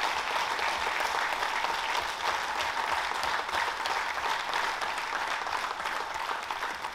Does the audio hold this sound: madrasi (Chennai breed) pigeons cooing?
no